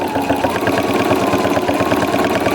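A sewing machine stitches rapidly during free-motion quilting with the feed dogs lowered, a loud, even mechanical chatter with a fast steady rhythm that continues without a break and without talk.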